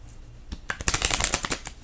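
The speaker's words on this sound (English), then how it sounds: "I'm really getting them broken into in a good shuffle, because I just unboxed this deck" A freshly unboxed deck of playing cards being shuffled up close, a quick burst of crisp riffling flutters and soft card snaps over about a second, with quieter handling before and after.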